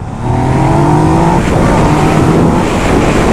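A 2020 sport motorcycle, a Yamaha MT-09 or Honda CBR600RR, accelerating hard in second gear, its engine note climbing steadily to a loud, strained roar mixed with heavy wind rush, close and continuous.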